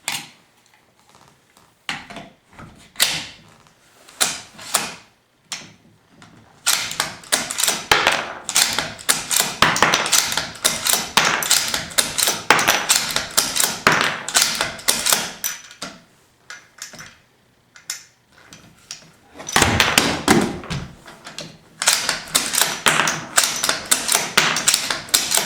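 Rounds pushed one after another into a Remington 700 SPS Tactical rifle magazine, a steady run of loud, close metallic clicks and clatters with brief pauses between bursts.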